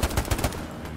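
AK rifle fire in Hell Let Loose: about four quick, loud, close shots in rapid succession, then a ringing tail fading away.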